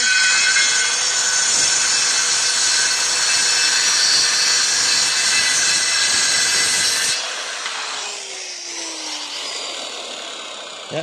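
Circular saw cutting through a wooden board in a workshop, a loud continuous high whine for about seven seconds, then the blade spins down with a falling pitch as the cut ends.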